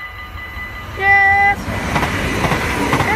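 A tram in Nieuwstadt arrives on rails, giving a short tonal horn blast before a steady rolling rumble of wheels builds and fills the rest; a person briefly speaks.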